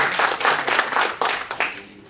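At a comedy show, the crowd answers a comedian's question about believing in God with a short wave of applause, many hands clapping in uneven surges that gradually thin out.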